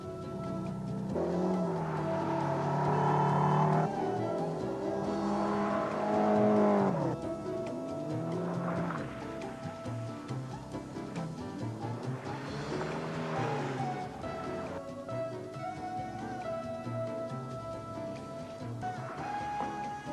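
During a driving-school handling demonstration, a car corners through a bend, its engine note rising and falling across several passes with tire squeal in the turns.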